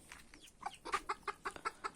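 A hen clucks in a quick series of short, rhythmic bursts, fairly close, with faint background noise and no talking.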